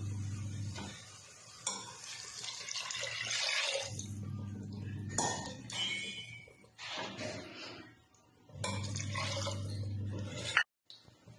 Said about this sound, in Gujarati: એટલે આપણે એમાં પાણી રેડી દઈશું